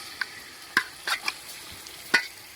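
Chicken stirred and fried in a pot over a wood-fired village stove, heard as a few sharp scraping stirs and brief sizzling bursts spaced across a quiet background, moderately close with no talking.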